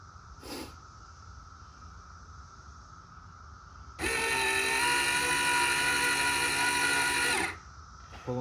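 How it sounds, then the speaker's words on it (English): A 12-volt linear actuator drives the emergency brake on a 1956 Chevy Apache, giving one steady, loud electric motor whine that lasts about three and a half seconds, framed by quiet room tone and a faint click before it starts. "Here's a shot of the linear actuator in action."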